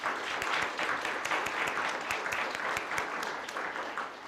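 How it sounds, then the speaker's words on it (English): Audience applause for participants in the 2026 Lawson moot court competition, a dense, even wash of many hands clapping at a moderate, somewhat distant level, sustained without a break. "please join me in a round of applause for everyone who participated in this 2026 Lawson competition"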